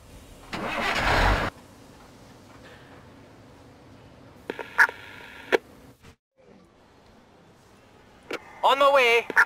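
A fire engine in the Emergency 4 video game with the Bieberfelde mod cranks and starts with a short loud burst, followed by quiet idle, clicks and thumps, then a siren-like rising whine at the end.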